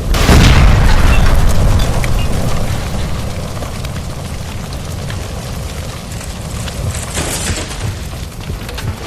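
A gas line blows up in the video game L.A. Noire, a loud deep boom that opens the sequence and rolls into a long rumbling, crackling roar of fire and falling debris.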